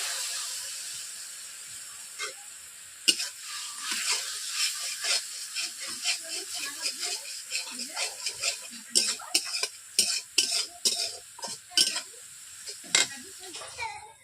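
Chilli and turmeric masala frying with a little water in a kadai for a Bengali potol chingri dish, a steady close sizzle broken by sharp scraping strokes of stirring that quicken toward the end.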